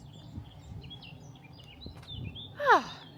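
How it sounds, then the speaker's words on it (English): Early-morning outdoor air carries faint, scattered high bird chirps in the distance, then one louder rising call rings out nearer toward the end. "listening to the birds, watching the sunrise"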